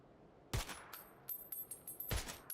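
Gunfire in a Call of Duty video game: a couple of sharp, loud shots with scattered smaller reports and clicks in between, fairly close and with no talking over them.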